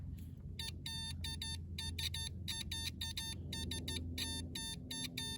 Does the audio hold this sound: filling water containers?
no